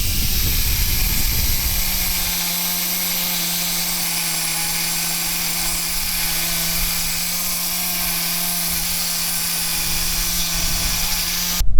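An exhaust pipe on a Subaru Forester is cut through with a power tool, a steady high-pitched whine with a constant hum running for about ten seconds after a brief rougher start.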